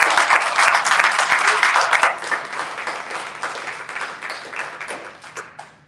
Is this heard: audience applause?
yes